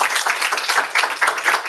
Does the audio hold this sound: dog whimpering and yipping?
no